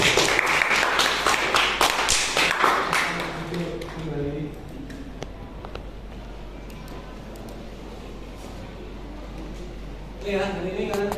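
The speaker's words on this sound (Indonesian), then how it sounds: "Tepuk tangan untuk Pak." A classroom of students claps for their teacher, a lively burst of applause for a few seconds that fades, followed by a teacher speaking over a quiet room, with a few claps returning near the end.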